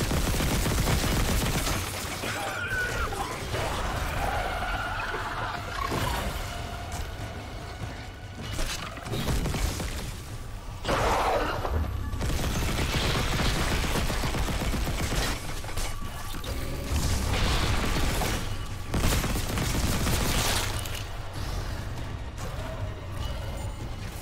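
Pulse rifle fire rattles out in rapid automatic bursts in Dead Space Remake on hard mode, loud and close, broken by short pauses, mechanical clanks and crashing impacts.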